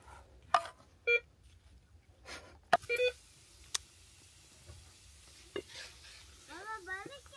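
Tomato-paste sauce in a pot being stirred with a spoon during a family fishing outing, a few scattered clinks and scrapes over a soft background sizzle, with a faint electronic chirping near the end.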